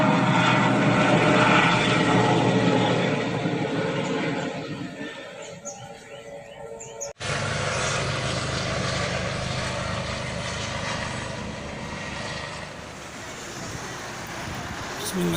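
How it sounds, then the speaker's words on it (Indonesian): An airplane passes overhead near a Jakarta–Cikampek toll road, a broad engine roar that dips briefly midway and then swells again, with faint voices in the background. "tuh aya pesawat."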